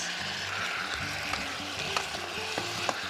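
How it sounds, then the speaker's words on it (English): Tomatoes fry in a hot Itaki Pro electric lunchbox with a continuous close sizzle and crackle, broken by a few sharp stirring taps, and no one speaks. "I'm gonna add my tomatoes. We'll just let them cook until they get soft."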